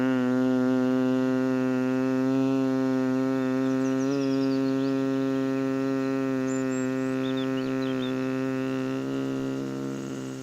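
A steady nasal hum is exhaled through the nose during Bhramari pranayama bumblebee breathing, a low buzzing tone held unbroken for about ten seconds, close and loud, fading slightly at the end.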